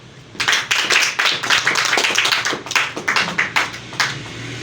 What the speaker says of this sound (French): On va encore lui donner une salve d'applaudissements.